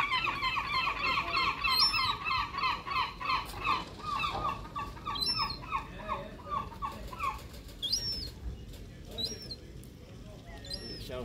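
Gulls squealing at a fish processing plant, sharp high cries repeating through the scene, with a dense chorus early and scattered calls later, mixed with people talking nearby.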